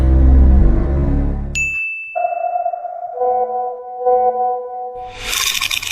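A phone message notification chime rings out as a clear bright ding with a ringing tail, followed by sustained tonal alert notes, in a quiet indoor comedy scene.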